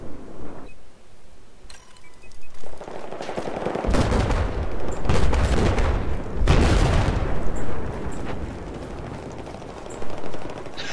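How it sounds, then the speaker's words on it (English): A UCAV drone strike in Battlefield 4 unfolds amid rattling gunfire, with two heavy booming blasts partway through, followed by lingering rumble and scattered shots. "I love the sound the UCAV makes."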